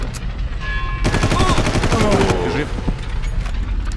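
Loud bursts of rapid automatic gunfire in the video game Far Cry, a dense stretch of repeated shots over a couple of seconds amid other in-game noise.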